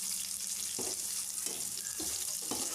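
Green chillies, curry leaves and fenugreek sizzle steadily in hot oil as tempering for a Tamil fish curry, a close, continuous crackling fry with a few soft stirring scrapes.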